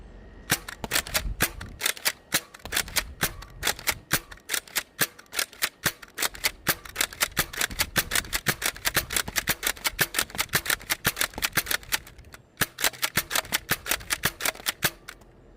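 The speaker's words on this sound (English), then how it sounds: "Slam fire." A high-capacity toy dart blaster firing in slam fire mode, a rapid stream of sharp, loud, close snapping shots in quick rhythmic succession with only brief pauses.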